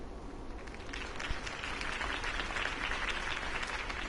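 Crowd applause at a political campaign rally in a Batman video game, a steady dense wash of clapping heard from a distance, swelling slightly and holding without a break.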